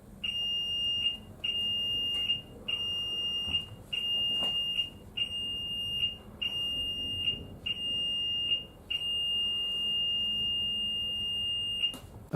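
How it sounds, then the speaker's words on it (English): A ship's general alarm sounds in repeated short blasts, about eight in a row, ending with one long sustained tone. "It consists of 7 or more short blasts followed by one prolonged blast on the ship's whistle and/or alarm bells."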